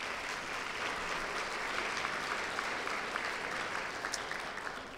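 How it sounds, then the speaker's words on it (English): Applause fills the room at the 2015 Women's Hall of Fame ceremony: sustained, even clapping from a seated audience at moderate volume, without speech. "Please give them all a round of applause."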